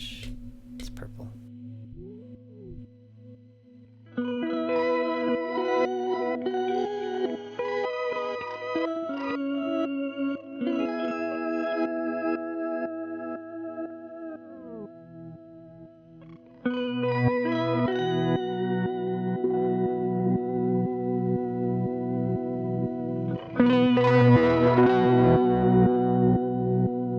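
Electric guitar runs through a Chroma Console pedal set to its pitch effect, giving shifting, warbling, layered notes with chorus-like shimmer and distortion across several played phrases, with quiet low voices murmuring at the start.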